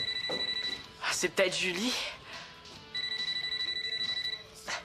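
A telephone rings in repeated bursts of bell-like tones, stops while people speak briefly, then resumes ringing with the same steady rhythm.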